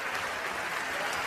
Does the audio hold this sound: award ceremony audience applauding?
yes